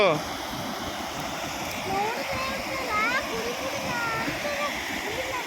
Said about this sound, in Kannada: ನೋಡ್ದಾ ಜೋಗ್ ಫಾಲ್ಸ್ ಥರ ಹೆಂಗ್ ಬೀಳುತ್ತೆ ನೀರು